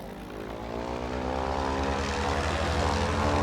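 A propeller aircraft engine in the flight game Flyout throttles up, a steady droning hum with harmonic tones that grows gradually louder and rises slightly in pitch, heard alone without talk.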